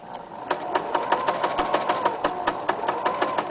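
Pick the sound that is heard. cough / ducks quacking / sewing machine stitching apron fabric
sewing machine stitching apron fabric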